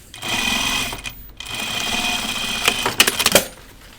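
A home sewing machine stitches through denim jeans, its steady mechanical whir running near and loud, breaking off briefly, then resuming and ending in a few sharp uneven clunks as the machine hesitates.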